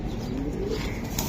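Giribaz and silver pigeons coo softly and continuously at a pigeon sale, with a low, steady murmur of birds close by and faint background noise.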